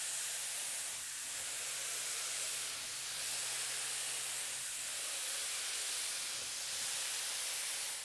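A spray gun lays down Auto Air Sparklescent paint coats in a steady, continuous hiss that stays close and even throughout, with no voices.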